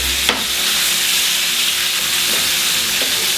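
Meat frying with two spoonfuls of paprika in a pot for Hungarian goulash, a steady close sizzle and hiss with a few faint stirring scrapes, no talk.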